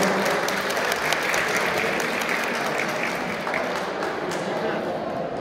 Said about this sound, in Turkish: Genç sporcuya bir alkış alabilir miyiz?